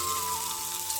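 Paneer goes into a spiced masala of turmeric, salt and cumin, which fries with a steady, hissing sizzle that stays even and fairly soft throughout, with no voices.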